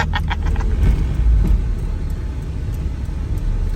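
A car drives along the road following a Mercedes-Benz 126, giving a steady low engine and road rumble close by with no talking.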